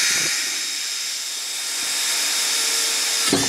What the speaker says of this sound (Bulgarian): В този край на работната маса ще си я натисна и започвам да пробивам